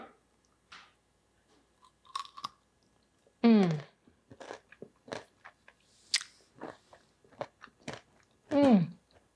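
Crunchy keto almond chocolate clusters bitten and chewed up close, a series of short crisp crunches scattered across several seconds, with a couple of brief vocal sounds mixed in between the bites.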